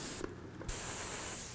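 Close spray-can hiss of black paint sprayed onto a 3D-printed helmet, a steady loud rush broken by one short pause between bursts.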